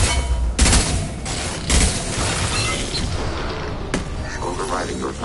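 A high-impact gunshot in Mass Effect 2 combat: a few loud, close booming shots spaced a second or more apart, amid rumbling battle noise with voices faintly present.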